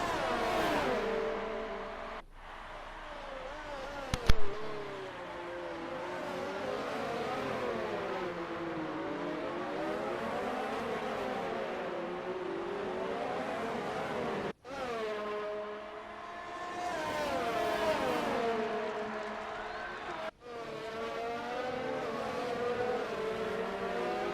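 F1 race car engines from the F1 2019 game at the Bahrain Grand Prix, several high-pitched screaming engines rising and falling through gear shifts as cars race in tandem, with brief sharp cuts, loud and continuous with no talk.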